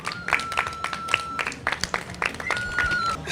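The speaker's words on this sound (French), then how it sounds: "Vous applaudissez pour vous-même." Children clapping at a televised French-language children's program, a short burst of scattered, uneven handclaps with a few voices mixed in.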